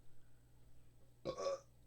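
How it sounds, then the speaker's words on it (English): A single short burp sounds alone against a faint, quiet background near the end. "Except for that burp."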